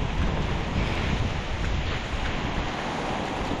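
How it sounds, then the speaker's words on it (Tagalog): Strong, steady wind roars across the microphone, a dense broadband rush with no pauses, like gusts buffeting open water. "Galit na galit po ang hangin din eh."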